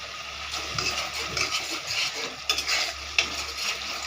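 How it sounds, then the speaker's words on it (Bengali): Spices fry in a pan for a cauliflower and katla fish curry, giving a steady bright sizzle with stirring scrapes and a couple of sharper clinks of the utensil. "মশলাটা ভাজা হচ্ছে মশলাটা ভাজা হয়ে এসেছে একটু"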